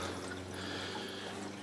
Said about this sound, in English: As you can hear there, water's currently flowing through.